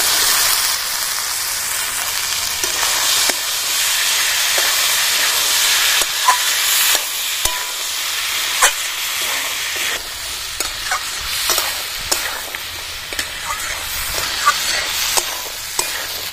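Fresh winter green peas for ghugni sizzle in a pan as a utensil stirs them, giving a continuous frying hiss broken by scraping and tapping clicks, close and steady, with no voices.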